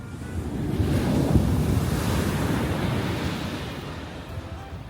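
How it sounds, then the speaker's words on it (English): Large ocean waves break on a beach in Dubai, a steady loud roar of surf with strong wind buffeting the microphone throughout. "Well, now you have massive waves"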